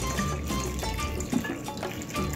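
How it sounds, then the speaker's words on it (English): Hot water poured over raw meat that has been cleaned with lemon and vinegar, a close, continuous splashing fill with small gurgles, steady for a couple of seconds, no talk. "And I'm gonna add hot water."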